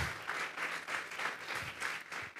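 A church congregation claps in rhythmic bursts at a regular beat, a fairly faint, roomy sound of many hands together with no speech over it.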